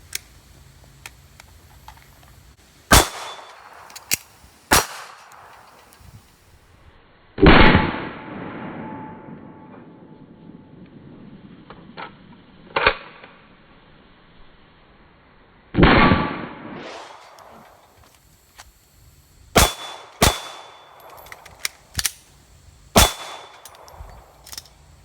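A Glock 23 Gen 4 pistol firing range ammo at an outdoor range, with about a dozen sharp, loud single shots spaced irregularly, plus a few heavier booming reports with trailing echoes.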